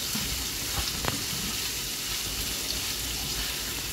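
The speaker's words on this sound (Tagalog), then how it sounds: "Okay, stir fry lang si Don P." Pork and string beans cooked in Coke sizzle steadily in a pan while being stir-fried, a continuous close frying hiss with occasional soft stirring clinks and no talk.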